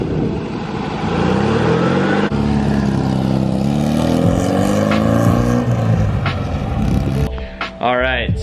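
A vintage VW Type 3 Notchback drives along with a steady engine drone and rumbling road noise, holding at a fairly loud level throughout while someone talks over it.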